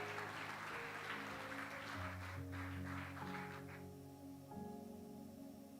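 Applause from a church congregation fills the first few seconds, fairly soft and steady, then tapers away as sustained organ or keyboard tones carry on alone.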